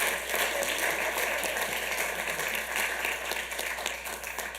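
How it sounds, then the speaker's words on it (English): A city council chamber audience applauds steadily for several seconds: dense, even clapping at moderate volume that tapers slightly toward the end. "Round of applause, everybody."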